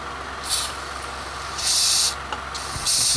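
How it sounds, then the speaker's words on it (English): Brake cleaner sprays in short hissing bursts into the intake of a Toyota Camry that cranks but won't start, three or four loud sharp sprays of varying length over a low background. "take a brake cleaner and spray it inside a little bit."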